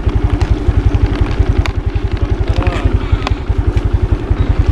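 Near and loud, a motorcycle engine chugs with a steady, rapid pulsing beat, its rhythmic thumps running continuously with light clatter on top.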